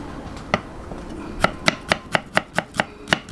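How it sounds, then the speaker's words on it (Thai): Shallots are chopped on a board, about a dozen close, sharp knife strikes, sparse at first and then in a quick steady rhythm, with no talk. "สับหอมแดงก่อนครับ"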